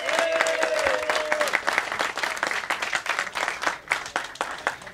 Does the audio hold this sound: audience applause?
yes